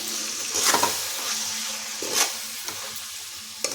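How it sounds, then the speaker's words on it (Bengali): Tomato, chili and soy sauces being stirred in a hot pan, a soft sizzle with a few scraping strokes and a sharp clink near the end, no talking. "সসটা খুব ভালোভাবে মিশিয়ে নিতে হবে।"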